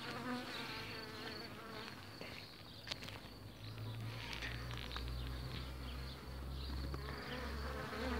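Honeybees buzz densely at a hive during a spring inspection after rain, an agitated swarming hum close by, with a few light knocks and handling noises mixed in.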